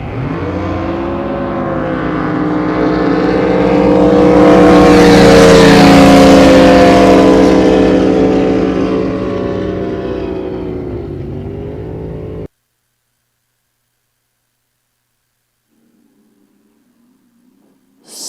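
Loud engine roar of a drag racing boat powered by a Mako 500 Chevy, swelling to a peak and fading over about twelve seconds, then cutting to near silence with a faint rumble at the end.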